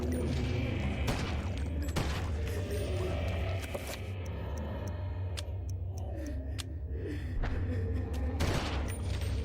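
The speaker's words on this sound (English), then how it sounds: "we're going to show off the assault rifle here, which has 2 settings. It has a, one shot, and then it also has the automatic version" Automatic assault rifle fire in the video game Eternal Darkness plays beneath a steady droning game soundtrack, with clicking mechanical ticks and a few bursts, while someone talks over it.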